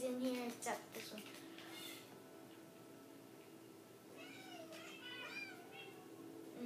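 A Siamese cat in a video game meows several times in short, fairly close cries, with brief sounds of a player's voice between them.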